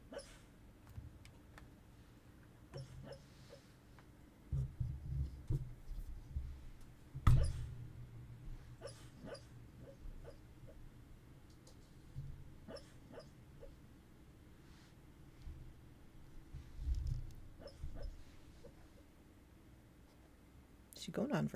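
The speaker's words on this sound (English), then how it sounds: "my dog is sleep barking." A sleeping dog lets out soft, muffled yips and whimpering woofs in scattered bursts, close by and fairly faint, with quiet room tone between them.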